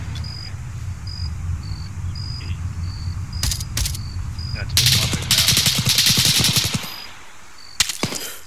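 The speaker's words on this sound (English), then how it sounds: "Taking rounds." Incoming gunfire in Arma 3, with bursts of automatic shots cracking near and loud over a steady background hum and insect-like chirping, followed by a few more isolated shots.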